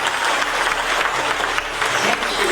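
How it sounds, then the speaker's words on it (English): An audience claps loudly and continuously to revive a fairy in a Peter Pan Neverland Christmas show, a dense, sustained wash of clapping with faint crowd murmur beneath. "Clap your hands if you believe in them."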